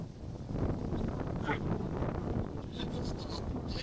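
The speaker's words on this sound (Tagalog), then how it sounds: "Dumadaan dito sa amin yung sobrang lakas ng hangin" Strong, unrelenting wind gusts across an open farm field, buffeting the microphone in a steady roar with rumbling low-end bursts; someone talks over it throughout.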